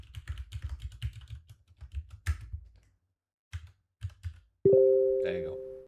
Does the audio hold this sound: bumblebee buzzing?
no